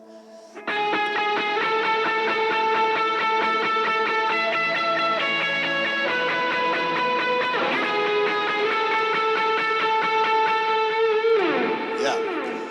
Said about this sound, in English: if you have a grungy guitar pedal, now's the time to pull it out